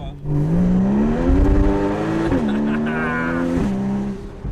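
A 2013 Porsche 981 Boxster S 3.4-litre naturally aspirated flat-six drones steadily while driving, its pitch rising and settling as it pulls through the gears, loud and close.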